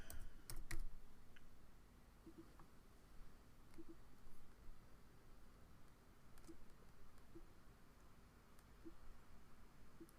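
Someone types on a computer keyboard in short irregular bursts of soft clicks, faint and close in a quiet room with no talk.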